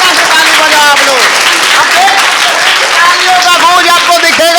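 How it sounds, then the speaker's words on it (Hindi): Loud, dense applause from a group of schoolchildren in Bihar, India, sustained throughout, with voices calling out over the clapping. "जोरदार तरीका से ताली बजाओ आप लोग"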